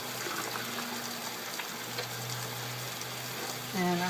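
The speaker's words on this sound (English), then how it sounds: "Wash my hands." Kitchen tap water running steadily while hands are washed, a soft continuous hiss up close with a faint hum beneath and a brief louder gush near the end.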